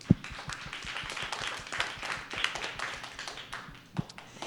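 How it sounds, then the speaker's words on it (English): Scattered clapping from a modest group at a school district governing board meeting, honoring a champion team; uneven claps of moderate loudness, a few sharp ones standing out, continuing for several seconds. "Give them a round of applause"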